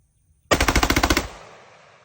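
An AR pistol fitted with a forced reset trigger fires a fast, loud burst of about ten evenly spaced shots over less than a second, followed by a ringing outdoor echo that fades away.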